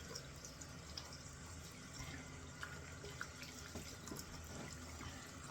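Water running from a tap as shaving gear from a Rex Ambassador safety razor is rinsed off, a steady close splashing stream with small drips and clinks throughout, no talking.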